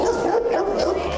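A large, aggressive 50 kg Rottweiler barks at a vet, a loud, continuous, close burst of deep barking and yipping with nothing else audible.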